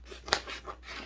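Scissors make a single crisp snip through paper during a craft project, close and brief, framed by soft rustling of the sheet being handled.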